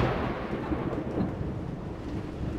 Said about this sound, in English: They're hiding from the storm. It's not a bad storm.